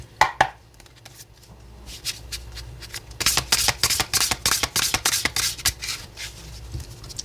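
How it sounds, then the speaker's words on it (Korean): Tarot cards handled on a table: a few soft flicks early, then a rapid burst of riffling shuffles with crisp rhythmic snaps, close and clear, easing into lighter card slides near the end, with no talk. "키카드를 2장 뽑아보도록 할게요"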